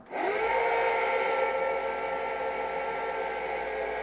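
A BMP infantry fighting vehicle engine, rebuilt after an injector repair, is started on compressed air alone: a sudden loud, high, steady whining hiss that holds for about four seconds, close by with no talk.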